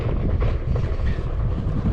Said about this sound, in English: Wind is picking up a little bit as well.